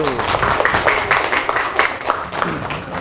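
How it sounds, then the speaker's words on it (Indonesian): A classroom of student teachers gives a round of applause for the first group after its presentation, a dense, steady patter of many hands clapping at close range for about three seconds. "Ya, kita kasih aplaus untuk kelompok 1."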